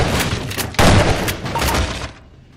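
Rapid turret gunfire in the video game Half-Life 2, a loud, dense stream of shots with booming impacts that cuts off near the end.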